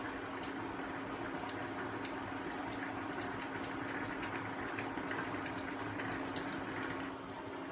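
Steady bubbling and hissing of galunggong fish soup at a rolling boil in a pot, close by and continuous, with a faint low hum underneath.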